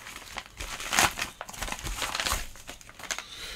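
Plastic packaging crinkles and crumples steadily at close range from an AliExpress cable parcel being unwrapped, with a sharper crackling burst early on and no speech.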